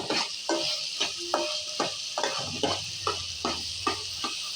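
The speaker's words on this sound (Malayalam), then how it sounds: "ഇത് 15 മിനിറ്റോളം വഴറ്റി വരും നമ്മൾ" Ingredients for a macaroni dish being sautéed and stirred in a pan, with rhythmic scraping strokes about every half second over a soft, steady sizzle.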